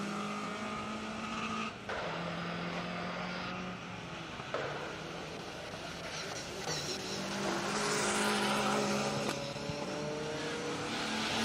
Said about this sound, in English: We have got vehicles out on stage